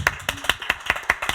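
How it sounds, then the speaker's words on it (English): At a Talkaoke community event at Rich Mix, a few people clap in a brisk, uneven rhythm, close and sparse rather than a full crowd, with no talk over it. "a round of applause for Baba"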